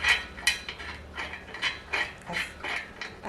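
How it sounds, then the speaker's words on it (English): Ratcheting, clicking mechanical turns from parts of a Sunbrella patio umbrella being screwed together, coming as a steady run of short close bursts about every half second, with no talking. "So I gotta screw these in."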